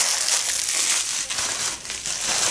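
Bubble wrap packaging is handled and crinkled close up, giving a continuous rustling, crackling texture that rises and dips over a couple of seconds, with no voices.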